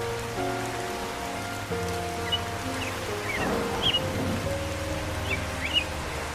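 Steady rain hisses over surfaces, with a low droning hum underneath and a few faint high chirps drifting through.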